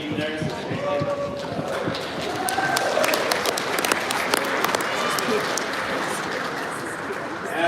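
Basketball fans in a gym applaud at a senior night game, a steady spread of clapping throughout with a crowd murmur underneath and a voice speaking over it.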